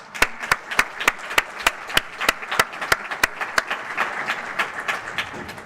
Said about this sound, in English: please give you a big applause